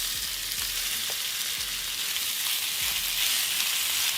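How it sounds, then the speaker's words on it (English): Beef searing in a hot cast iron pan with a little olive oil, a loud, steady, hissing sizzle that holds evenly throughout with faint low thumps underneath. "you're going to add your beef and you're going to sear for a good 3 to 4 minutes"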